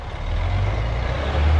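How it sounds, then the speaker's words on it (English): Concrete mixer truck idling on a pool deck pour site, a steady loud low engine rumble throughout with no distinct reversing beeps standing out. "Got the truck here, mixing up our mud."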